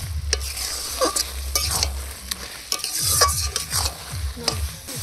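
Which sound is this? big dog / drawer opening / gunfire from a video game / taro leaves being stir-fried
taro leaves being stir-fried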